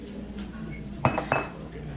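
Cookie dough ingredients stirred in a bowl, a few close clinks and knocks of a utensil against the bowl over quiet kitchen background, with a voice briefly present.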